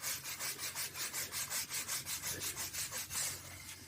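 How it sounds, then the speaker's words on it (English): Stiff scrub brush rasping back and forth across stone pavers to lift white efflorescence residue, a steady fast rhythm of close, even scratchy strokes with no talking. "And just to help, you just use the scrub brush."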